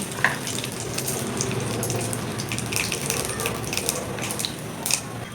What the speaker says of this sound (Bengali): গরম হয়ে গেছে, দিয়ে দিচ্ছি একটু কালো জিরে